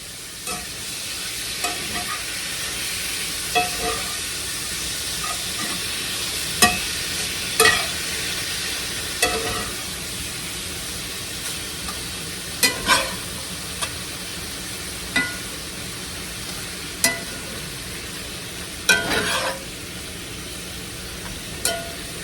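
Garlic butter and sauce sizzle steadily in a pan, with a continuous frying hiss broken by occasional utensil scrapes and clicks as the food is stirred.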